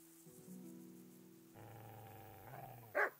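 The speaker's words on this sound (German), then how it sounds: "Und die bellen, weil sie das nicht mögen." Dogs bark and growl in the medieval role-playing game Kingdom Come: Deliverance, a steady snarling layer under game sounds, ending in one loud, sharp bark close by.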